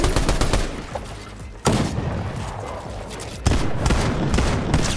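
Shotgun blasts in the video game Fortnite: a few sharp, loud reports spaced seconds apart, each snapping in and decaying over the game's busy background sound, with no voices.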